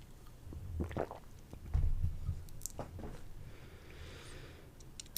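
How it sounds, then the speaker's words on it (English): A man gulps a drink of light-roast coffee: a few soft, low, wet swallowing thumps close to the microphone, quiet and muffled, with faint small clicks and near-silence between them. "Boy, I could hear myself gulp."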